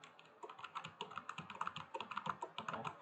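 Someone types on a computer keyboard to delete text while configuring a MariaDB database server on Debian 10, producing a quiet, close, rapid run of irregular key clicks with no talking.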